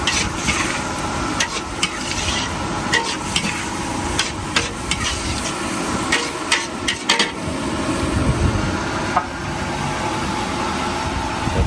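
Stink beans stir-fried with chili and shrimp paste in a wok, a steady busy sizzle with scraping and clattering stirring strokes running throughout, close and continuous with no talking.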